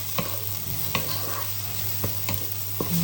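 Garlic and onions sizzle and crackle steadily in a hot pan while a utensil scrapes and stirs through them every second or so.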